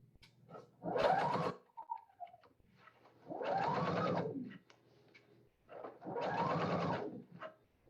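A sewing machine stitches a circle around a satin-stitch applique to hold the stabilizer, running in three separate quiet bursts of steady whirring with short pauses between them.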